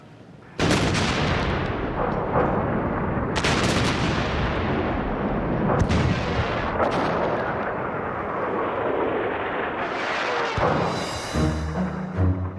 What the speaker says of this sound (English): The Allied bombardment opens up.